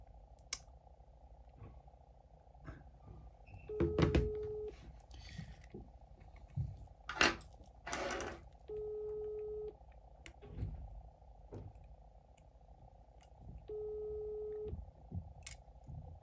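A phone dialing to return a missed call during an iPhone 12 repair, with three sustained beeping tones spaced several seconds apart amid scattered clicks and handling noise.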